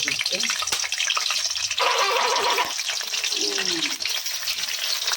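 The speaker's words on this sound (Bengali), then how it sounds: "তো চলো আলুটা আগে বসিয়ে দিই ভাজা করতে।" Potatoes frying in a pan on a home kitchen stove give a steady, close hiss that runs through the whole moment, with a brief louder sizzling burst partway through and a voice speaking over it.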